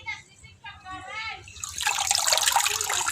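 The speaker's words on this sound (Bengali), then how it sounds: "পাতাগুলো আমি ধুয়ে নিতেছি।" Ridge gourd leaves being washed in water, a broad splashing rush of running water that swells in halfway through and continues steadily, following a few seconds of a voice talking.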